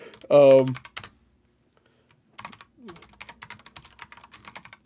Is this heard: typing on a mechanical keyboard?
yes